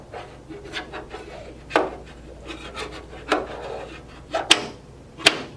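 An air regulator being fitted into a Taylor C707 soft serve machine: a series of close, sharp plastic clicks, knocks and rubbing scrapes at irregular intervals, with no talking.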